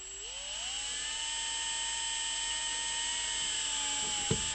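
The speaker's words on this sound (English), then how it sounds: "Left-hand drill bit to the rescue." A left-hand drill bit whines steadily at high speed as it bores out a broken bolt in a truck cylinder head, its pitch rising at the start and holding, ending in a brief clunk.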